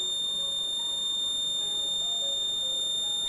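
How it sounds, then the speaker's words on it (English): A shrill, high electronic alarm tone from a wheelchair's fall detection system sounds continuously over a low background murmur. "The fall detection alarm was activated."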